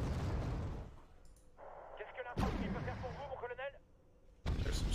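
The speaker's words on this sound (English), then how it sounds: "There we go, artillery coming in." Artillery fire in the Wargame: Red Dragon video game, with a sharp booming blast, then scattered distant impacts and crackling, and another heavy burst at the end, all over a low rumbling battlefield bed.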